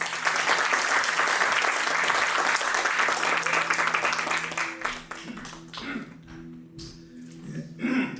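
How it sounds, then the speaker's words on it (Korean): Church worship-gathering audience gives loud, dense applause to welcome a former seminary president as speaker, sustained for about five seconds before thinning into scattered claps while a voice begins over it. "우리 총장님을 박수로 모시겠습니다."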